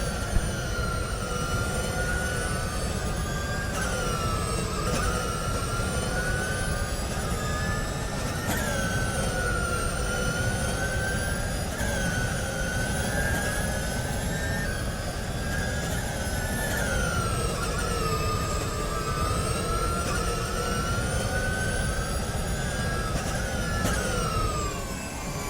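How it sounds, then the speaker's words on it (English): Electric open-wheel race car on an onboard lap at Franciacorta, a loud steady high-pitched whine that rises and falls with repeated acceleration and braking, close and continuous with no talking. "Let's just listen to the electric engine."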